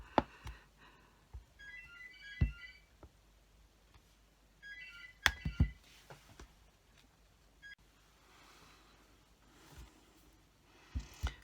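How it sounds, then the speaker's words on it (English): A house phone rings indoors in short electronic trilling bursts, two rings spaced a few seconds apart, fairly faint and mixed with soft knocks and handling noises. "I had to stop to answer the phone. It was my house phone"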